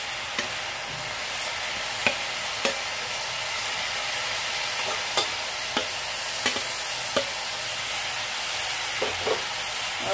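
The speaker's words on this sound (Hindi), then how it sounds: "अब हम इसमें भुना हुआ नेनुआ डाल देते हैं।" Ridge gourd pieces stirred into sizzling masala in a pan with chana dal, giving a steady frying hiss broken by repeated sharp scrapes and clinks of a spoon against the pan, close up with no voices.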